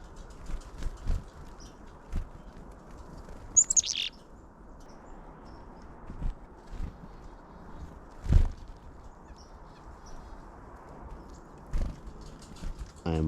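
Wild birds give sparse, high, brief chirps while being hand-fed outdoors near the Hog's Back ice falls, one sharper tweet standing out over soft crunching footsteps and ambient outdoor noise.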